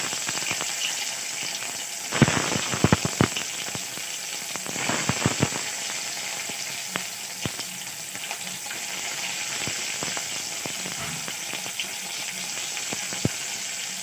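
Chopped tomatoes with spices and a bay leaf frying in a pan, a continuous crackling sizzle broken by sharp spatula clicks and scrapes, busiest early on, heard close and without talk.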